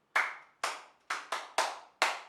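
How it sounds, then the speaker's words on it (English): Six separate, sharp claps ring out in an uneven rhythm in a quiet room, each with a short echoing tail, as children clap for a classmate during a Grade 2 e-learning lesson. "let's clap for her"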